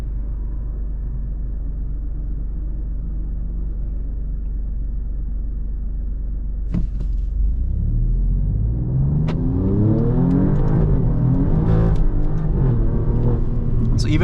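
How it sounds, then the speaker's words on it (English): Alfa Romeo Stelvio Quadrifoglio engine on a race track: a steady low rumble cuts in sharply, then rises into loud, climbing revs through several gear changes, close and unbroken. "Listen to that Stelvio."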